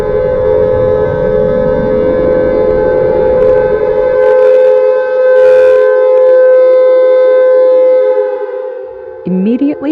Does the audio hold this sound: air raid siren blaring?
yes